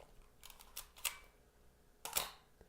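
A 35mm film camera shutter fires at 1/1000 second in a quiet room, giving a few crisp mechanical clicks with a sharp double snap near the end, close and clean.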